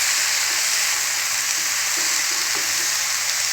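Mushrooms coated in masala with curry leaves sizzle loudly and evenly in a hot pan, a dense continuous frying hiss with faint stirring scrapes underneath and no talking.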